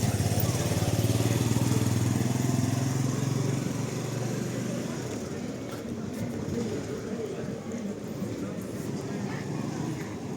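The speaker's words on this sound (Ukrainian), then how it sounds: "Їде мотоцикл." A loud motorcycle engine rumbles close by, then fades slightly as it moves away, with street noise throughout in Lviv.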